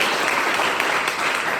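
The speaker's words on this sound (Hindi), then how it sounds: "इनके लिए जोरदार ताली बढ़िया" Loud, dense applause for a director, continuous clapping from a sizeable audience with no break.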